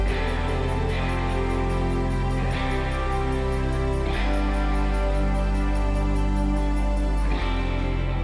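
Steady, full-band church worship backing tracks with sustained pads and a deep low end play continuously at moderate level, with no voices.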